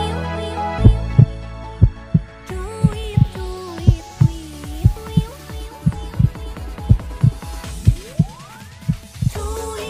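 Heartbeat sound effect in an Indonesian TV romance film: a loud, steady double-thump pulse repeating about every half second, with music playing underneath throughout.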